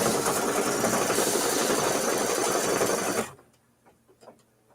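An embroidery machine stitches the tack-down line of a strawberries quilt block with a fast, steady mechanical whir, then stops abruptly, leaving faint clicks and room quiet.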